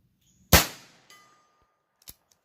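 A Heritage Rough Rider .22LR revolver fires at targets 100 yards out: one sharp, close report with a short ringing tail, then a second fainter shot about a second and a half later.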